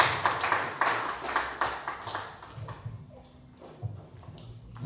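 A church congregation applauds with a burst of loud, irregular clapping that gradually thins out and fades toward quieter scattered claps.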